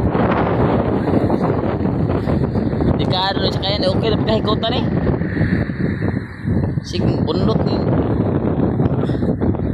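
Strong wind roars steadily across the microphone, loud and constant, with people talking over the gusts.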